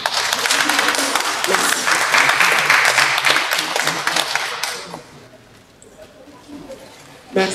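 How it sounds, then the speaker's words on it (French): Conference audience claps for a speaker, loud dense applause for about five seconds that thins out and fades, followed by brief quiet with a faint voice starting. "Je vous prie de les applaudir, s'il vous plaît."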